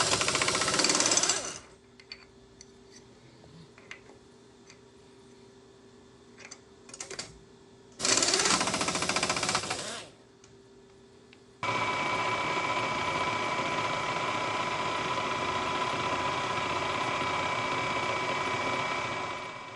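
A Bridgeport milling machine spins an edge finder on a rotary table setup, giving a steady, close mechanical whir with bursts of louder broadband noise and a sustained run to the end.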